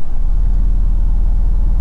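A low, steady four-cylinder car engine in Car Mechanic Simulator 2018 idles with a rumbling, pulsing drone, loud and close, with no voices.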